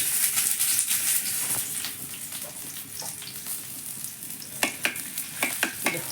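An egg fries in a home kitchen pan with a steady, close sizzle and crackle, and a few sharper pops toward the end.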